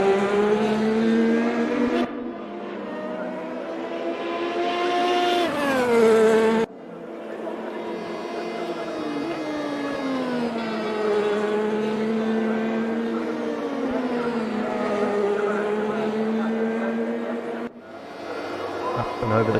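Race car engine from a sim racing game on a flying lap over a crest toward the line, a loud sustained tone rising and falling with shifts, with a commentator talking over it throughout.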